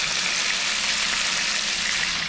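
Chicken pan-frying in a hot pan, a steady bright sizzling hiss with no breaks, close and even in level.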